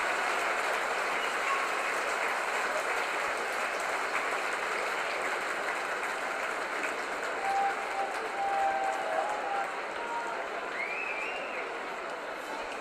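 Spectators at a charity hybrid rugby cup match in Gloucester clap steadily and continuously as the players take the field, a broad wash of applause with faint whistles and calls in the distance.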